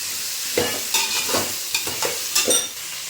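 Vegetables and mint for a Hyderabadi veg dum biryani being stirred in a pan, with several distinct scraping strokes and a soft sizzle underneath, close and moderately loud, no voices.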